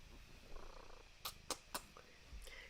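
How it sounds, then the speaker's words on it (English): A small petite cat named Susie purrs softly and close, a low rumbling murmur broken by a few sharp clicking taps. "Hey, are you purring?"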